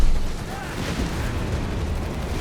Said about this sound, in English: Got more artillery called in here.